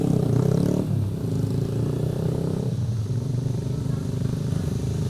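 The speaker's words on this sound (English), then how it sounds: "So if you hear a loud motorbike, get out of the way" A loud motorbike roars past nearby, its engine droning heavily and fading slightly as it goes, with faint clatter in the background.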